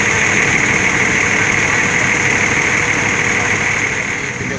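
An engine runs at a steady idle, loud and close, a constant unbroken drone with a faint high whine and no voices.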